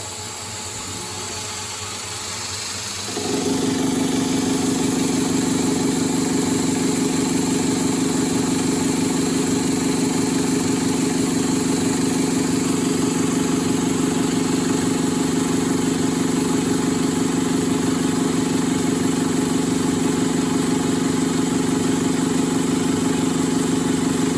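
A lathe with a three-jaw chuck turning round ends on square bar stock, starting with a low rumble and then settling into a loud, steady machine drone and whine that continues unchanged throughout.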